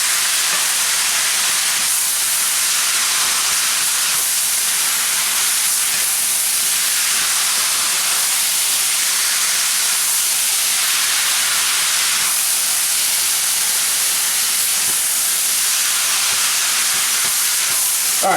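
Ground meat browning in a pan for a taco hotdish casserole, giving a steady, loud sizzling hiss that runs unbroken and close throughout, with no talking.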